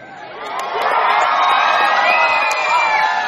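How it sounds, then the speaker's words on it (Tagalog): A pageant crowd at the San Gabriel Miss Gay Universe contest erupts in loud cheering, whoops and shouts that swell after the first half-second and hold at full strength. "Ba't di nating sabay-sabay halakpakan, sigawan, at hiyawan"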